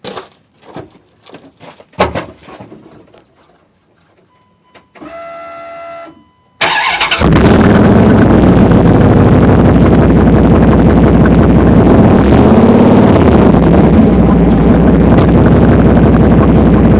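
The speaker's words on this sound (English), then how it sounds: "That's what you call country boy exhaust right there." Car with a straight-pipe exhaust and no muffler, heard after a few clicks and short bursts: the engine fires abruptly and settles into a loud, raw, continuous rumble close by.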